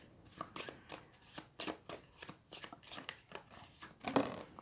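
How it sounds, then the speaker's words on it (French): Cards from the Mosaic board game are shuffled by hand in repeated soft, quiet riffles and slides, close by and with no talking. "On mélange la carte suprématie impériale dans un des 2 paquets."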